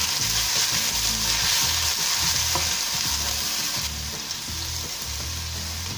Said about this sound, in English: Make sure to stir the onion in between so that it doesn't start burning